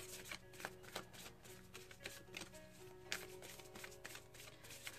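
Work Your Light oracle card deck being shuffled by hand, quiet repeated riffling and flicking of cards in close, uneven bursts before a card is drawn.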